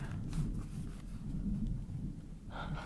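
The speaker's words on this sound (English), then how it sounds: "I love when it rains, especially in a library." Steady rain falls outside a library, a soft continuous hiss with a low rumbling undertone, faint and even throughout without speech.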